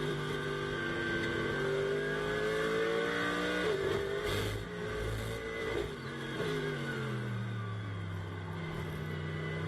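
GT race car on the Nürburgring in a GT World Challenge qualifying session, revving hard in second gear out of a right-hand corner, with loud engine notes climbing and shifting through gears, close and continuous.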